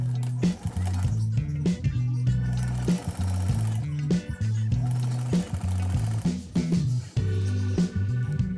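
A sewing machine runs a seam along a scrunchie's fabric strip in quick bursts, its motor whirring and buzzing in stop-start runs with short pauses between them, loud and close, and no talk over it.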